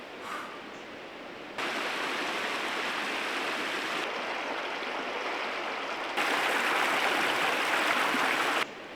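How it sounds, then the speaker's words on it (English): A calm creek flowing gently in snowy winter mountains, a steady broad rush of running water close by, shifting in loudness in a few abrupt steps, with no talking. "right by this calm little creeks here. Water's flowing gently down to the river."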